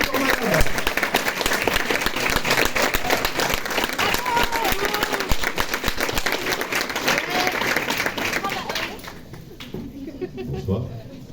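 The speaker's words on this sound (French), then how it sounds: "vous pouvez à nouveau faire un tonnerre d'applaudissements" An audience at an in-store author meeting at a Fnac shop in Paris breaks into long, loud applause with scattered voices mixed in, then the clapping thins out and fades near the end.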